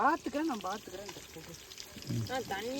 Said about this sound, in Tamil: கொஞ்சம் தண்ணி ஊற்றிட்டு